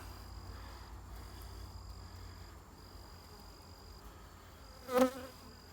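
Honeybees buzz in an open hive box, a steady soft drone with a few individual bees passing close, one louder buzz sweeping by near the end.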